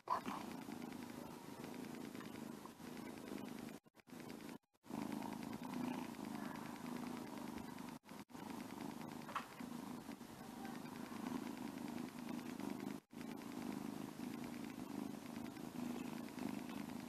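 Tishka the cat purring contentedly, a steady continuous rumble carried through the whole stretch with only a few brief breaks, close and fairly loud, with no talking over it.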